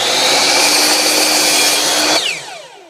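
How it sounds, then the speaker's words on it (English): A power miter saw slices through a trim board during a laundry room remodel: a loud, steady whining cut lasting about two seconds, then the blade winds down alone. "I'm going to place it on my miter saw and make that cut."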